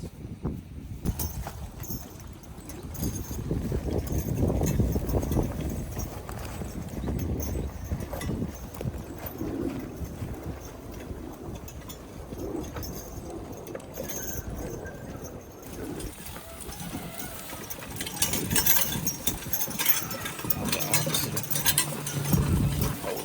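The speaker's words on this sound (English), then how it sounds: "He's a charging heavy type horse." Heavy draft horse hooves clip-clop steadily on a hard surface, a continuous rhythmic plodding at moderate loudness with background rumble and some rattling.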